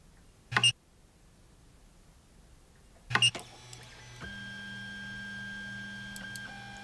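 An Ender 3 3D printer fitted with a Y-axis linear rail kit runs its homing process: two sharp mechanical clicks a few seconds apart, then a steady, even stepper-motor whine that continues to the end.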